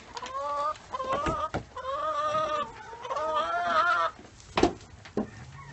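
Chickens and goats at a farm feeding spot, with chickens pecking at alfalfa pellets, give a run of clucks and bleats. The animal calls are close and fairly steady, with a couple of sharp knocks near the end.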